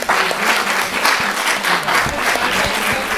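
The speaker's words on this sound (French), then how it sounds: "Applaudis" Loud, full studio audience applause on the Burger Quiz game show, continuous and dense from start to finish, with a few low thumps beneath it.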